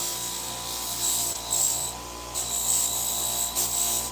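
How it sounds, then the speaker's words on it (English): Bandage scissors are buffed against a spinning sharpening wheel, a steady close rubbing and grinding whine that swells and eases as the blades are pressed and lifted, with no talking. "So I'm just kind of buffing them up a little bit on the wheel before I sharpen them."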